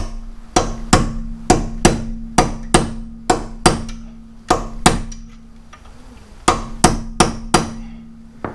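A hammer staking the axle nut on a Toyota Matrix front hub, about fifteen sharp metallic blows struck in quick bursts with a short pause midway, close and ringing.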